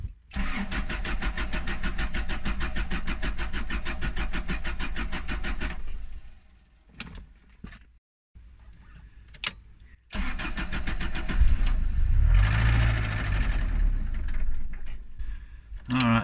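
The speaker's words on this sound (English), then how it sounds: "she starts with starter fluid" A car engine turns over and catches on starter fluid, running steadily at a loud idle before cutting out, then firing up again and running rough, close by with no talk.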